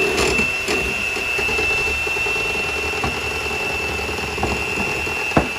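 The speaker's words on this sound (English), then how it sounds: "we're gonna put the mixer on a low speed, of course, so it'll stir it" An electric mixer runs on low speed, stirring flour into lemon poppy seed cookie batter: a steady whirring motor drone with a thin high whine, holding even throughout, with a couple of soft knocks near the end.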